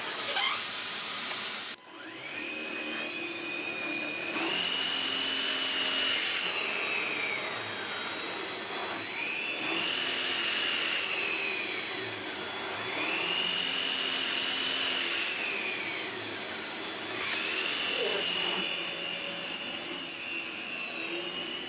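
A Vorwerk Kobold VK200 upright vacuum cleaner drones continuously at close range, its motor pitch rising and falling in repeated slow cycles as it works.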